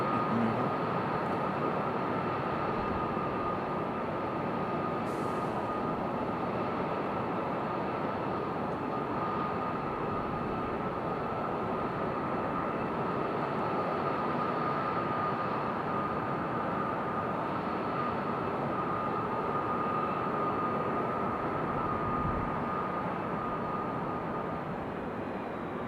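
An Embraer E175 airliner at Raleigh-Durham airport, heard as a loud, steady jet engine roar with a constant whine, unbroken for the whole stretch.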